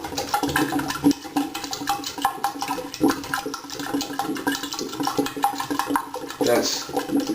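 Water rushes down a household drain once the stopper is pulled, a loud continuous flushing wash with some bubbling, and a person talks faintly underneath.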